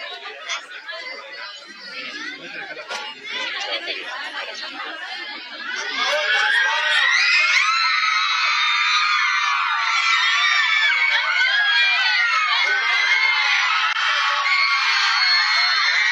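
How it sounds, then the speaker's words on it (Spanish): Crowd of hundreds of reality-show fans screaming and cheering at an airport arrival in Salta, building from excited chatter into a sustained, loud chorus of high-pitched shrieks. "Los gritos anuncian entonces la llegada de Marcos."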